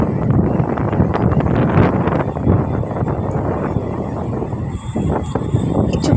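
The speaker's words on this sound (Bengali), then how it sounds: "বেশ জোরে হাওয়াও দিচ্ছিল" Strong wind sweeps across a hilltop beside an old temple, producing loud, continuous rumbling gusts that buffet the microphone throughout.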